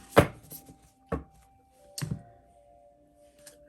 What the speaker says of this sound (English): Bunch of cards flip out, brother.